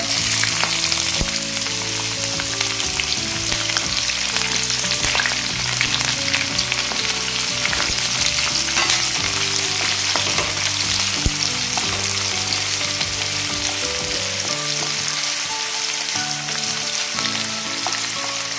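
Finely chopped large onion and eight to ten curry leaves crackle and fry in hot oil, a loud, dense, unbroken sizzle held steady throughout, close up with faint stirring and no speech.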